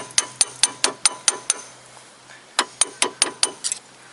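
Ratchet clicks rapidly loosening a bolt on a Toyota Corolla VVT-i engine during driveshaft removal, two bursts of about seven sharp ticks each separated by a pause, close and clear.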